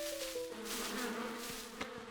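Cartoon bees swarm from a hive in a steady, close buzzing drone with wavering pitch, a few faint knocks near the end, no talk.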